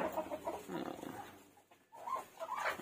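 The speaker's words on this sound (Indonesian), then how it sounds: "ini ayam" Free-range black village chickens on a small-plot farm clucking softly, a few scattered low clucks and murmurs at moderate distance with a brief quiet gap, no talking.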